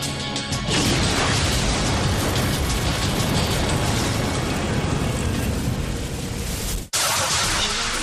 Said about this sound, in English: A bomb explodes outside the Murrah Building in Oklahoma City.